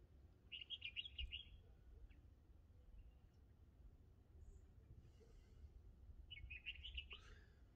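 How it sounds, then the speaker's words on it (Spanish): Small birds chirp in short, bright bursts, one cluster near the start and another near the end, faint against a low outdoor rumble with a few scattered single tweets in between. "Hay tantos pajaritos trinando y viviendo como si no pasara nada."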